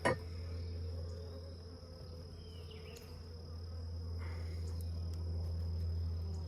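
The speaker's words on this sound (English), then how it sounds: "It's another full frame of bees" A steady, low droning hum of many honey bees buzzing close by on a full hive frame, continuous and even throughout, with no talking.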